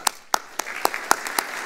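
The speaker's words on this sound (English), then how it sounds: "congratulate our colleague from Europol and give a hand of applause" Sparse, slow hand claps ring out one at a time in a meeting room, about seven distinct claps in a loose rhythm, honoring a Europol colleague at a tobacco supply chain event.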